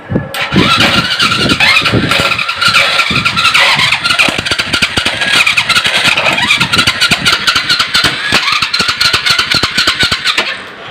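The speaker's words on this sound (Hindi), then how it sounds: "बाइक को बंद करेंगे और अब सेल्फ़ से स्टार्ट करेंगे।" A motorcycle's electric starter, which has a fault and fails to start the bike, cranks loudly and continuously for several seconds, a rapid rhythmic whirring grind heard up close.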